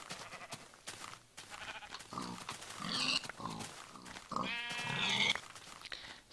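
Pigs oink and grunt in a video game, and sheep-like bleats are mixed in. The calls come as scattered short bursts at a moderate distance.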